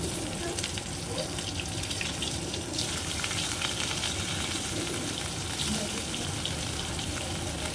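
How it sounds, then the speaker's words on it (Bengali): Pieces of rui fish fry in hot, lightly salted mustard oil in a pan, giving a steady, close, crackling sizzle that hisses continuously without pause. "একের পর এক এইভাবে আমি মাছগুলো তেলে দেব ধীরে ধীরে, না হলে গায়ে ছিটতে পারে"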